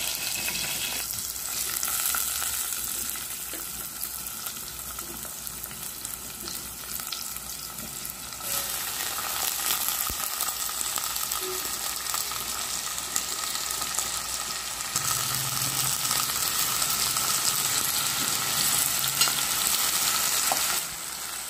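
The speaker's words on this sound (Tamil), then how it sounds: "இதெல்லாமே கொஞ்சம் நல்லா வதக்கி எடுத்துடணும்" Onion, tomato and drumstick sauté in hot oil for sambar, a continuous dense sizzle that stays near and steady throughout, with occasional stirring against the pan.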